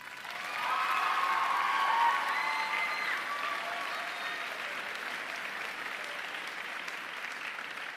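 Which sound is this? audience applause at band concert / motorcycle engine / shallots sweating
audience applause at band concert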